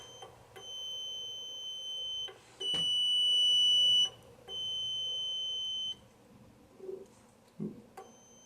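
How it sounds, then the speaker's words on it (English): A small solar4STEM buzzer synth circuit on an electricity kit sounds a series of steady electronic tones. Each tone is held for about a second, with different pitches set by pressed buttons and faint clicks between them. The last tone is much quieter. "when you push your buttons, you're going to find that you get different tones from your buzzer"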